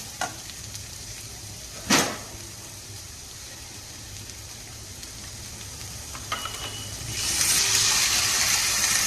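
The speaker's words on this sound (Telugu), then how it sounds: "ఇప్పుడు వాటర్ యాడ్ చేద్దాం." Water is added to a sizzling potato curry made with mashed potato and salt, starting as a steady low frying hiss with one sharp clatter, then swelling into a louder rushing sizzle near the end, close and without talk.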